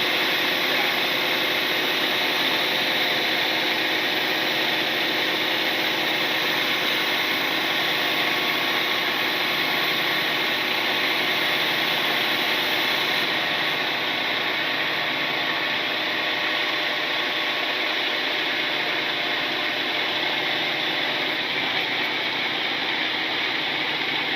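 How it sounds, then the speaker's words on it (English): A truck engine idles with a steady, broad droning hum that runs unbroken and fairly loud throughout, with no change in pitch. "The truck's idling."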